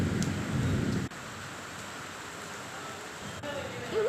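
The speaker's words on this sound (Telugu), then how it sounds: "చాలా ఎక్కువ పడుతుంది వర్షం." Heavy evening rain falling near a house during a thunderstorm, a dense steady hiss of downpour with a louder rumbling burst at the start, continuous throughout.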